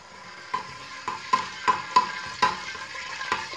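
Whole cumin seeds crackle and sizzle in hot oil while being stirred for a mutton gosht masala curry, with a steady frying hiss broken by several sharp clinks of a spoon against the pan.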